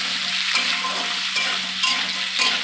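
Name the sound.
potatoes frying in a pan with cumin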